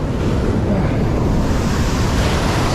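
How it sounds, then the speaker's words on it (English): Ocean surf crashes and churns nonstop at the Wedge, a loud, dense roar of breaking waves mixed with gusting wind buffeting the microphone, with no voices. "Now there's tons of waves."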